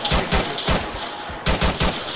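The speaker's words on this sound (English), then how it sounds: "I'm being shot." Gunfire in ARMA 3 (Breaking Point mod) during a firefight: several bursts of sharp, loud shots in quick clusters, pausing briefly before another tight volley near the end.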